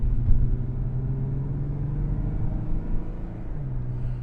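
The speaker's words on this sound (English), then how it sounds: "nice smooth sounds from the engine" A Lexus GS250 engine rumbles low and steady up close, its pitch rising slightly as it accelerates smoothly.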